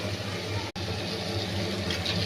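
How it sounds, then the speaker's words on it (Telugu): Water pours into a cooking pot of mutton curry in a steady, continuous stream with a brief break partway through, close by with no talking. "ఒక ½ గ్లాస్ వాటర్ వేసుకుందామండి"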